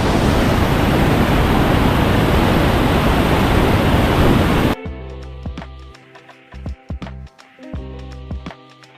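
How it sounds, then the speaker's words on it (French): A waterfall in Fulufjället National Park, Sweden roars as a loud, dense, steady rush for several seconds, then cuts off abruptly, leaving only faint intermittent sounds. "avec la chute de la cascade juste à côté"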